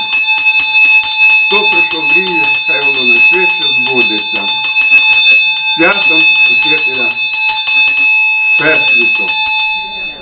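A small ceremonial bell rings steadily and brightly throughout a Teacher's Day celebration honouring educators in Brody, while a person speaks loudly over it.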